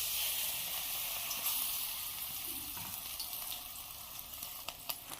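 Coriander-leaf pakora batter sizzles and crackles in hot oil in a wok, a dense continuous frying hiss with small pops throughout, close and fairly loud with no talking.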